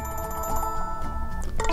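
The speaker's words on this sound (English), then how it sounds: "that's our regular ringtone" A ringtone plays from a BlackBerry DTEK60 phone, a short tonal melody with sustained pitched notes, heard alone at moderate volume.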